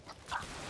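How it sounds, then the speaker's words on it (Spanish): Dogs approaching in a zombie video game, heard as a short, faint canine yelp or whimper among the game audio, close and quick, with no talking. "Vienen perros, corre."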